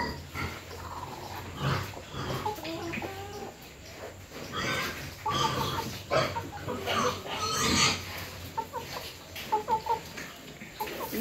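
Chickens with feathered crests cluck and murmur in a farmyard, with short repeated calls over a busy, rustling background and some possible pig grunts mixed in.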